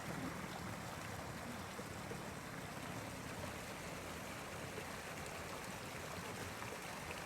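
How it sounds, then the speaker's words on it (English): Steady, faint rushing and trickling water from a river flowing past a golf course, a continuous broadband wash with no talk or distinct events. "You can see the river flowing right in front of the golf course"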